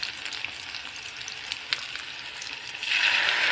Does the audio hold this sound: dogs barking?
no